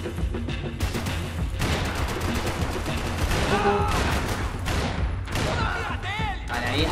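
Gunfire in the video game Max Payne 3, dense repeated blasts and shotgun shots in a rapid, loud barrage over clattering action, with someone briefly speaking.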